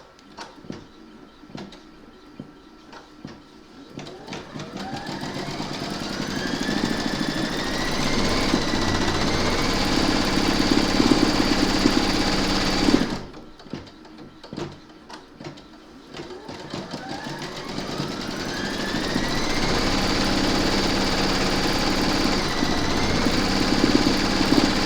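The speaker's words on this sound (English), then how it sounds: "So I'm now going to stitch this." A home embroidery machine stitches an in-the-hoop gnome keyring tag on stabiliser, its needle buzzing in a fast, steady mechanical rhythm. It pauses briefly partway through, then resumes at the same pace, close and fairly loud.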